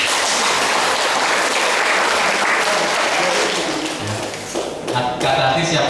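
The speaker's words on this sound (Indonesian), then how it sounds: "Tepuk tangan untuk Kata Hati." Graduation event audience applauds the Kata Hati group with steady, dense clapping that holds for several seconds before tapering, with a few thumps and voices emerging near the end.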